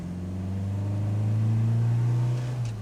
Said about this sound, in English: that sort of growling exhaust note, which is beautiful from that 1800 B series engine